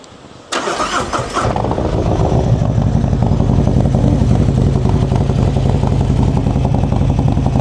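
A 2023 Harley-Davidson Road Glide Special engine with a 2-into-1 exhaust fires up after a short moment of quiet, then settles into a loud, steady, rumbling idle close by.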